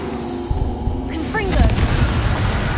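A Confringo spell blast in the Hogwarts Legacy video game, a single booming impact with a rising magical whoosh and lingering rumble, following a quieter stretch of game ambience.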